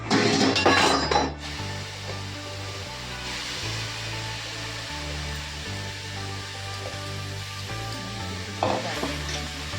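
Apples for apple jam cooking in a pan on the stove, a steady sizzle and bubble with a louder burst at the start, occasional stirring clinks and a low rhythmic hum underneath.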